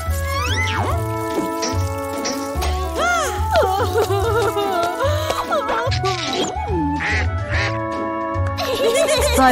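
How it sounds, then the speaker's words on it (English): A cartoon duck quacks repeatedly in a children's seat belt song, its nasal honks rising and bending in pitch over a bouncy musical backing with a steady beat. "Quack, quack, quack."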